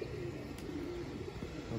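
Pigeons in a net coo softly in a low, steady murmur, a continuous burbling call close by with no talking.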